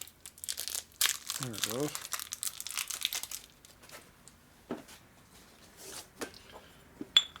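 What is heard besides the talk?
plastic packaging crinkling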